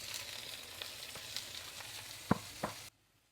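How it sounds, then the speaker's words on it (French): Chopped leeks fry in a couple of spoonfuls of hot olive oil as a filling for stuffed cabbage, giving a steady close sizzle with a few sharp stirring clacks near the end before everything cuts to silence. "Je vais chauffer environ 2 cuillères à soupe d'huile d'olive et je rajoute mon poireau."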